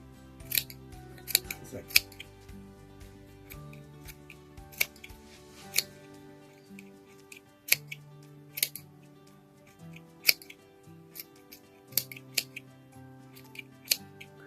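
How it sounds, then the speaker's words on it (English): Sharp scissor snips cut yarn repeatedly at an irregular pace while crocheting a baby hat, close by, over soft background music and a quiet voice. "I think I'm going to go for the nice scissors"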